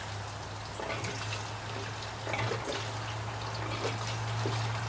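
Mixed gas being poured from a container into a small engine tank, a steady liquid trickle and splash that runs continuously and close by, without any talking.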